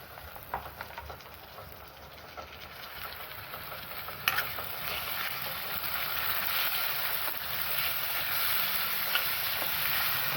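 Tomatoes tip into onion and green chili frying in hot oil; a soft, steady rain-like sizzle runs throughout, with a brief sharper hiss partway through, heard close and moderately quiet.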